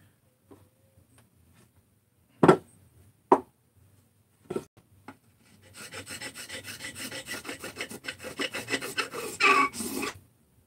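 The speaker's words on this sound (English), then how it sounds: "But it definitely takes off the gasket." A carbide tool scrapes old gasket off a 394 engine crankcase. A few sharp knocks come first, then a run of close, raspy back-and-forth scraping strokes.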